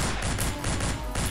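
Enemy gunner opening fire in the video game Madness Deathwish 2: a dense, loud burst of rapid gunshots that runs almost without a break, with a brief dip partway through before the shots resume.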